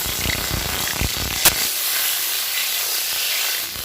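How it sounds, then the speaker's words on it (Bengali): Pointed gourd frying in mustard oil in a wok gives a steady, close hiss and sizzle, with a burst of crackles near the start and one brief sharp spike partway through, then an even hiss to the end. "প্রথমে পটলটাকে ফ্রাই করে আনবো, তার জন্য দিয়ে দিব কড়াইতে সর্ষের তেল।"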